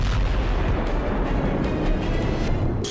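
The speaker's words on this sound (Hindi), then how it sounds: "दूसरा धमाका भी वहीं होता है" Heavy explosions strike a Ukrainian army convoy in war footage, a dense continuous roar of blasts and rumble filling the whole stretch, loud and close with a sharper burst near the end.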